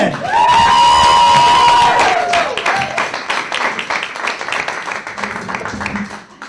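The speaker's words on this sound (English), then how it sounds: "big round of applause for Beverly Simpson" A comedy club audience at a stand-up show applauds and whoops for a comedian, a loud, dense burst of clapping and cheers with a sustained tone over it at first, then thinning out.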